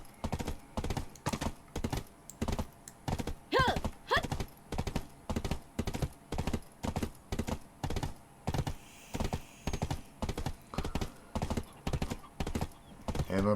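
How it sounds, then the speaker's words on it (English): A horse gallops in the video game Black Desert, its hoofbeats thudding in an even, rapid rhythm throughout, loud and close, with a brief whinny-like sound partway through. "Horse doesn't run that fast. You can shift sprint with it,"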